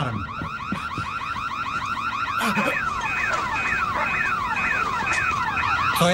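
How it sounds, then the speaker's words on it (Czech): A car alarm blares close and loud, cycling through rapid warbling and whooping siren patterns that grow stronger partway through and keep repeating. "To je alarm."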